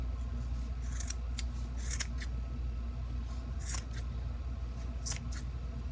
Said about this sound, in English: now we're ready to cut like this